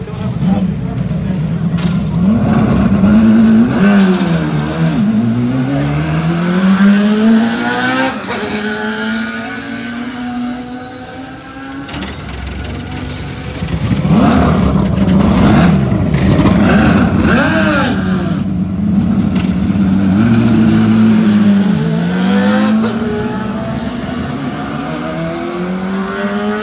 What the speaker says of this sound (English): All right, we're going to follow the car.